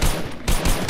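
Quick gunfire from the Fortnite video game, with two or three loud, close bursts packed into under a second.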